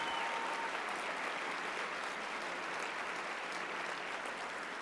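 The wait staff at the Sheridan receive a round of applause at a political party's annual dinner: a dense, steady clapping from a large crowd that holds at an even level throughout.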